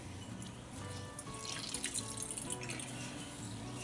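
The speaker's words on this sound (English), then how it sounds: "put this bread in water, get it wet, and then squeeze it out" Water running and splashing as soaked bread is squeezed out by hand for German-style venison and wild hog meatballs, a steady close wet trickle with small drips throughout.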